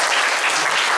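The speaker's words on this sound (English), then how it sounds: "The big round of applause for Dr." A lecture audience at a club gathering in Oklahoma City gives a loud, dense round of applause, a brief burst of clapping with no talk over it.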